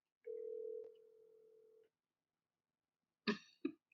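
A steady ringing tone on an outgoing FaceTime call sounds alone for about a second and a half, then cuts to silence, followed by a few short throat-clearing or cough-like bursts.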